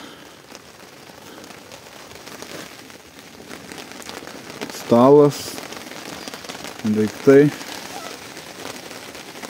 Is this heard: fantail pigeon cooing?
no